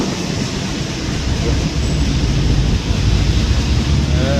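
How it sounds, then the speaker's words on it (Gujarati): Strong wind roars and buffets constantly throughout at an outdoor agricultural fair in Rajkot, loud and close, with no pauses or voices. "તો પવન એકદમ આવે"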